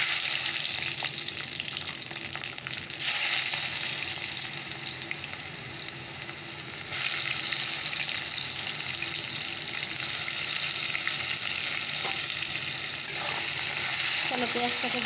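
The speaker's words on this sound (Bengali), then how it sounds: "চলো পেঁয়াজটাকে ভেজে নেই ভালো করে" Chopped garlic and onion frying in oil in a pan, a loud continuous close sizzle with stirring scrapes that briefly softens midway before surging again.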